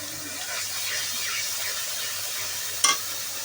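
Pangas fish frying in the oil released from the fish itself, a steady close sizzle with soft stirring, and a short clink of utensil near the end.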